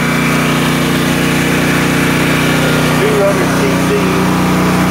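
A Greenfield GT3500LB gasoline generator with a 200 cc motor runs steadily up close, a loud, constant engine drone with a buzzing hum throughout and a voice talking faintly over it.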